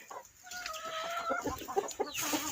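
Naked-neck chickens with chicks clucking nearby, a busy mix of short clucks and a drawn-out call, with occasional rustling in the background.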